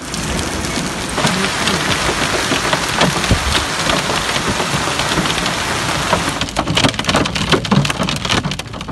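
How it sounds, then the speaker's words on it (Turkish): Heavy downpour with walnut-sized hail pounding surfaces during a sudden storm in Konya, Turkey: a loud, dense, continuous hiss with sharper scattered impacts, especially toward the end, and no talk. "Konya'da gökyüzünün kararmasıyla sağanak yağmurun düşmesi bir oldu, daha ne olduğunu anlamadan dolu yağışı başladı."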